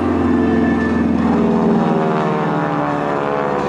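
A loud propeller airplane performing at an air show drones steadily overhead, its engine hum rising and falling slightly throughout.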